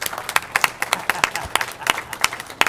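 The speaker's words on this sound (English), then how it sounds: "Yes, you can all applaud." Scattered applause from a city council meeting audience greeting police department members, a handful of sharp individual claps in an uneven rhythm, fairly close and moderately loud.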